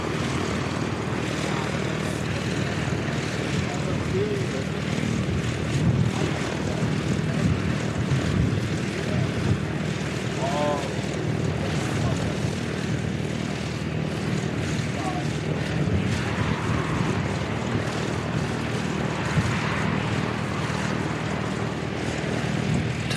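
An ATR turboprop takes off at Christchurch Airport, a steady distant propeller drone and engine roar holding level under wind and faint voices, heard from a spotting position outside the field.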